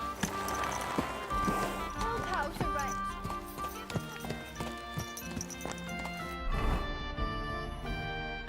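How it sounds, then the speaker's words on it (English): A horse's hooves clip-clop in a steady close rhythm alongside snorts and tack noises, with people talking over it and a busier scuffle near the end. "Easy, good horse."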